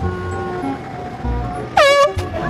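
A horn blown loudly in a brief, piercing honk that wavers in pitch, rising out of a steady background rumble and followed by a short second blast.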